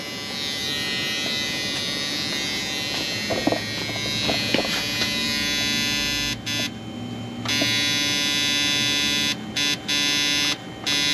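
Warning buzzer in a 1976 Corvette drones loud and continuous, then cuts out in short gaps several times toward the end, with faint clicks and handling noise early on.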